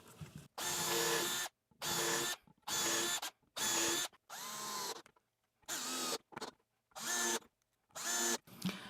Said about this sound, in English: then I'm going to drive some screws in